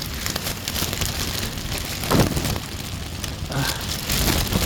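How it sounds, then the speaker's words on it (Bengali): Dense raindrops patter steadily on a thin polythene sheet close by, on a boat moored to a tree branch in a storm, a constant crackling hiss with a few louder taps. "পলিথিনের উপরে বৃষ্টির ফোঁটা পড়ার শব্দ পাচ্ছেন নিশ্চয়ই।"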